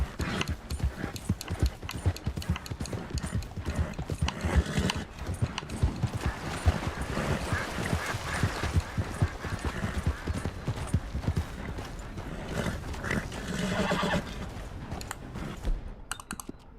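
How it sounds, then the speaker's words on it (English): A horse in the video game Red Dead: steady rapid clip-clop of hooves running, with clicking and rustling over it, continuous and fairly loud. "Caballo."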